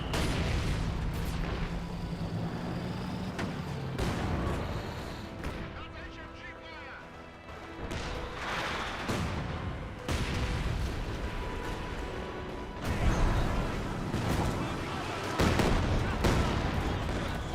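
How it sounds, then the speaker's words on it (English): Artillery barrages in the Company of Heroes 2 strategy game thud and crack in repeated bursts with uneven gaps, heard under a commentator's steady talk. "I got some artillery being brought in there."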